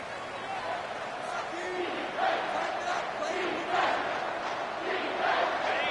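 Stadium crowd in the NCAA 25 college football video game, a steady roar of cheering that swells in waves around a big third-down play, loud and continuous throughout.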